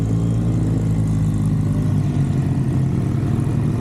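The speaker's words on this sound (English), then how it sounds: "Ray Steptoe here on his, I'm thinking it's a 72, could be a 73, Yamaha TX 750" Engine of a 1972 or 1973 Yamaha TX 750 motorcycle idling steadily nearby, a loud, continuous low rumble that holds without a break from start to finish.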